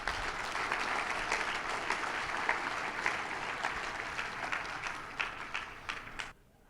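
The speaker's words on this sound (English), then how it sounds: "Please give Chris a round of applause." Audience at an ADA training session in Rapid City, South Dakota, applauds in a steady, dense wash of clapping that holds for several seconds, then thins and cuts off near the end.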